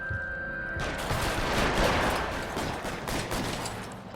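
Video game gunfire in a rapid, dense volley of shots, loud and close, swelling in the middle then easing off over a few seconds.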